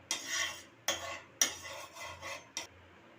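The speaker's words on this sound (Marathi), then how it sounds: "तेल थोडं असं पसरवून घ्या" Oil is spread across a hot griddle for thalipeeth with five close, raspy scraping strokes separated by short pauses, quiet and without any voices.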